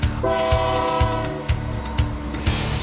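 A train rumbles past with a rhythmic clack of wheels over rail joints about every half second, while a loud multi-tone horn blares early on and fades as the cars keep rolling by.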